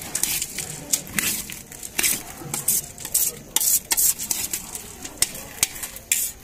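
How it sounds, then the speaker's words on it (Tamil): Egg karam ingredients, including beetroot, being mixed together by hand or spoon, producing irregular scraping, rubbing and clinking strokes, close up and moderately loud, with no voices. "எல்லாத்தையும் போட்டு மிக்ஸ் பண்ணணும்"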